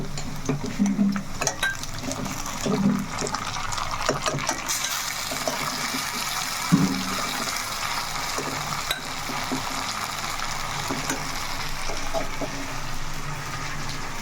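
Water added to chicken frying in a pan sets off a steady sizzle and bubbling, with occasional stirring clicks, moderately close and without talk.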